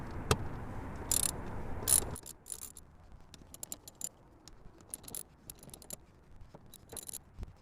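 Ratchet with an 8mm socket undoing fasteners on a BMW 335 with N54 engine; quiet, close clicking and metallic clinks in scattered short bursts.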